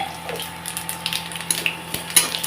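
Black cumin seeds go into hot oil where garlic and green chillies are frying for a pumpkin-leaf dish, giving a soft continuous sizzle dotted with light clinks and stirring taps of a utensil against the pan.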